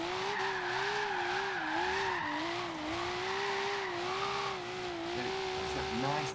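Tires squeal in a long wavering screech over a steady high-revving engine, a car drifting through a corner at over 100 mph in Forza Horizon 3.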